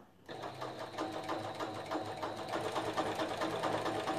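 A sewing machine runs a steady decorative top stitch across a quilt, a fast, even mechanical whir with a rapid stitching rhythm, fairly faint and heard alone.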